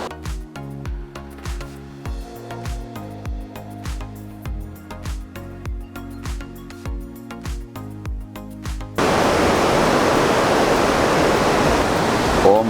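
Water rushing at Ripple Waterfalls, a stream cascade heard as a loud, steady broadband roar that begins abruptly after a stretch of rhythmic music.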